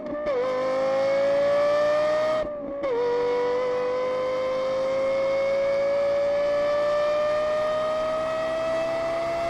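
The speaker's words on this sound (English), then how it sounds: "You can just listen to the scream and the carry-on, and it's just an unbelievable engine" Lexus LFA V10 engine screaming at high revs, a loud sustained wail that dips briefly around a gear shift and then climbs steadily in pitch, heard close and alone.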